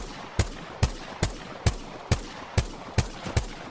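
A light-ammo gun fires in the video game Apex Legends: nine evenly spaced single shots, roughly two per second, each a sharp, punchy crack with no talking.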